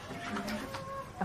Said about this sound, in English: My chickens are really excited today because it feels like spring.